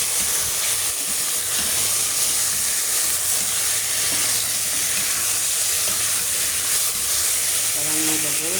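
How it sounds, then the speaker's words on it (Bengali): Chicken pieces fry in a pan with onions, bay leaf, cumin and cloves, giving a loud, continuous hissing sizzle that holds steady throughout, with a little stirring and a faint voice near the end. "মুরগির মাংস একটু ভেজে নিচ্ছি"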